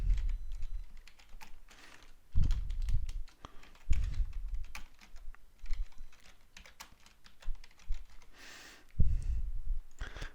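Quick bursts of typing on a computer keyboard, close and crisp, with irregular runs of key clicks and brief pauses between them.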